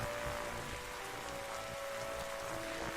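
Steady night rain in The Darkside Detective video game, a dense even hiss of falling drops with no breaks, moderately loud and alone.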